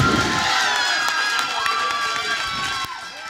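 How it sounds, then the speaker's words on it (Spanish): A large concert crowd cheers and shouts over dense, continuous applause, loud and close throughout. "Fuerte el aplauso."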